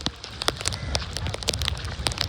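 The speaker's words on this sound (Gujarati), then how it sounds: "વરસાદ ધીમો ધીમો ચાલુ છે" Light rain pattering outdoors in Surat, with scattered drops ticking across a steady soft wash, close and fairly quiet, no voices over it.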